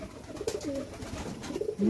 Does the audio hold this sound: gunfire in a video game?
no